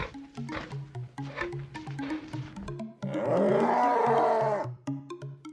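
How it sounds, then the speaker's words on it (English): A bear lets out a deep, sustained roar, loud and close, after a stretch of background melody. "Bear,"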